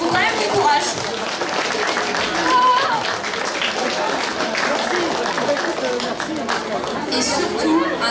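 Contest participants at a superhero fair awards ceremony are applauded by the crowd, with scattered clapping running under lively chatter and voices throughout.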